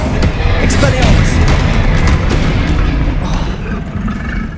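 Expelliarmus is cast in the video game Hogwarts Legacy, a loud, dense rumbling blast with booming impacts that holds steady for several seconds before easing slightly.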